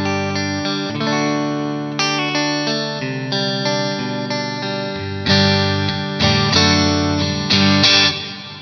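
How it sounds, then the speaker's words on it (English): An electric guitar played through a Black Star stereo reverb on a Poly Effects Beebo pedal, heard in mono, rings out in sustained strummed chords that change every second or so, with a lush wash of reverb tail, loud and alone. "That's a stereo reverb."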